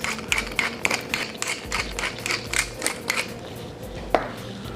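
A pepper mill grinds black pepper in a home kitchen, giving a steady run of close, rhythmic crunching and ratcheting twists with no talking over it.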